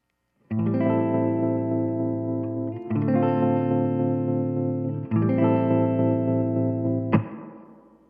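Sustained electric guitar chords chopped by a fast tremolo effect from a Ventris Dual Reverb pedal, played alone in three loud strums with a ringing decay at the end.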